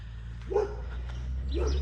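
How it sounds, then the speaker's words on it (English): Dogs outdoors during a morning garden walk give two barks spaced about a second apart at moderate distance over a steady low hum. "Now the dogs are going to bark."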